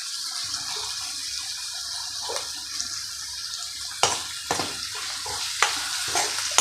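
Bitter gourd kootu frying in a pan: a steady, hissing sizzle with occasional scraping stirs of a spoon against the pan, close up and fairly quiet, with no talking.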